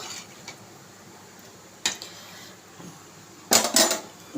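A lid goes onto a pot of boiling potatoes with a few sharp metallic clanks and clatters, isolated knocks near the end over a quiet background.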